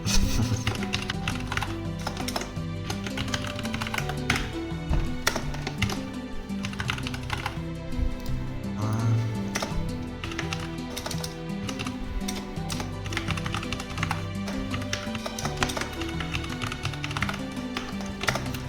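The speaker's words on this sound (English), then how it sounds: "You can see what I typed to my keyboard." Someone types rapidly on a computer keyboard close by, with dense, continuous key clicks and taps in an irregular rhythm throughout, and no one speaking.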